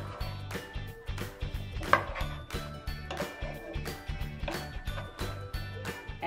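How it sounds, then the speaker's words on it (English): Fish being mixed with turmeric, cumin powder, mustard paste and garlic paste in a pot for a dish with bottle gourd, with a soft, rhythmic series of low knocks and scrapes close by, fairly faint and continuous. "Mix them well."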